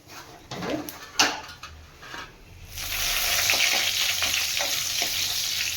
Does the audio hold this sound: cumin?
yes